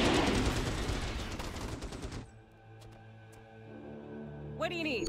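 Dense, rapid gunfire from troopers in the PC strategy game Starship Troopers: Terran Command roars loud for about two seconds, then cuts off to a quieter hum before a voice speaks near the end.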